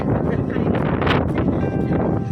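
Strong wind at Cape Dara in Pattaya buffets the microphone in loud, gusty rushes and rumbles that swell and dip from moment to moment.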